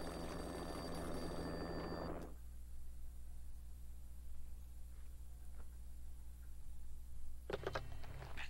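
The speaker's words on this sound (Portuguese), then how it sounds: "Aí o telefone vai começar a tocar." An old-style telephone bell rings loudly in the PS2 video game Max Payne, sounding steadily for about two seconds before cutting off, leaving quiet ambient game noise and a brief clatter near the end.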